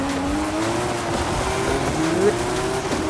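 A Nissan Silvia S15 Spec R with an RB26 engine swap in Forza Horizon 5 brakes into a corner, engine tone sliding down steadily with a faint tire squeal near the end, continuous and close.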